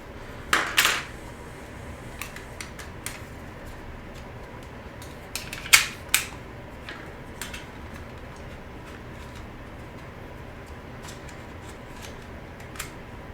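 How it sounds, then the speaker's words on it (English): A plastic extended handle clips onto a Meta Quest controller with a couple of sharp, close plastic snaps, followed by scattered light clicks and handling taps in a quiet room. "that's going to clip in there till you hear a snap"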